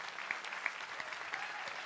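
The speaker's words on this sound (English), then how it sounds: "make a huge round of applause for my daughter Lindsay" An audience claps for a daughter named Lindsay at a live comedy show, a steady, moderately distant wash of applause with a few sharper claps standing out.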